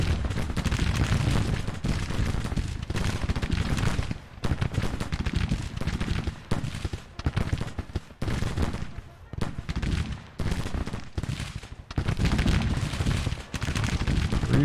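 Dense, continuous musket volleys from Civil War brigades firing into an enemy flank in the strategy game Grand Tactician: The Civil War, loud rolling crackle of many rifles with brief lulls, no voices.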